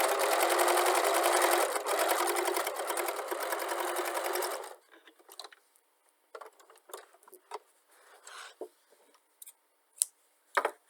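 A sewing machine stitches through bag material in a loud, continuous close run of motor hum and needle chatter for several seconds, then stops, followed by scattered clicks, fabric handling and small clattering sounds.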